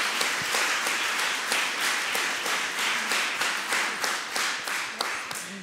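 Audience applause for a boxing champion at a sport and leadership panel, a crowd clapping in a strong, fairly regular rhythm, individual claps clearly pulsing through a continuous wash for several seconds.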